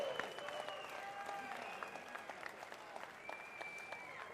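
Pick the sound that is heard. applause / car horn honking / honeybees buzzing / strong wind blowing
applause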